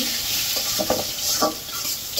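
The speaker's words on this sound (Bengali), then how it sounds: "আলুটা একটু ভেজে নেবো" Potato pieces fry with cumin seeds in hot oil in a home kitchen, giving a close, continuous sizzle with soft stirring scrapes and brief bursts of spattering.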